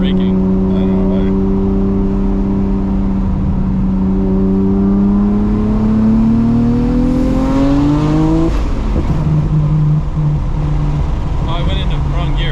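Nissan R34 GTR engine revving hard in the cabin, pitch climbing through gears with a flat-foot shift and a mistaken jump into sixth, loud and continuous under voices talking.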